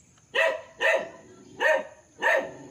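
A dog at a Philippine farm house with mountain and lake views gives four loud, evenly spaced barks, close by, with no voices.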